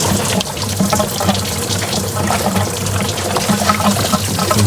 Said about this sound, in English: That's going to be all the coolant. So, still draining